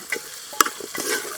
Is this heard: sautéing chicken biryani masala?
yes